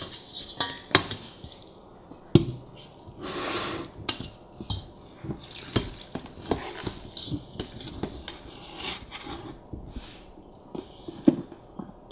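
Chopped kimchi vegetables are shifted into a large container with scattered clinks, scrapes and knocks of utensils and dishware, some sharp and close, with a brief rustling swell partway through.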